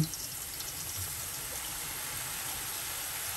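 Motichur laddu batter drips through a perforated ladle into hot oil, giving a steady, close hiss of frying droplets with no pauses.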